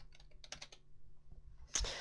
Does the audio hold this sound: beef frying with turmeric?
no